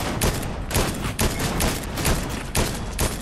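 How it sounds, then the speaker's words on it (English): Rapid gunfire in the video game Fortnite: a dense, loud, continuous volley of shots pulsing in quick bursts, close and alone with no talk. "Somebody's shooting over here."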